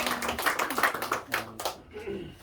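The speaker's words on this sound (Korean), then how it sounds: "우리 하나님께 감사의 영광의 박수를 보내드리겠습니다." Congregation applause during a Sunday afternoon church service, a moderate burst of uneven claps from a seated group, with a voice speaking over it and the clapping thinning out toward the end.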